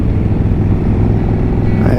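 Motorcycle riding through downtown Sedona on Arizona Highway 89A, a loud, steady engine rumble with low throbbing pulses heard close up, a rising note near the end.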